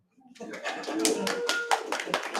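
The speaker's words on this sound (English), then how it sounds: "Please feel free to clap now." Scattered clapping from a small group of people starts up and continues steadily, a few claps standing out sharply, with faint chatter underneath.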